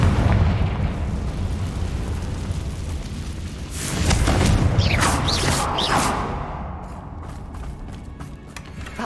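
A Confringo explosion spell goes off in Hogwarts Legacy as a booming blast with crackling debris, rising over continuous game rumble and mechanical clatter.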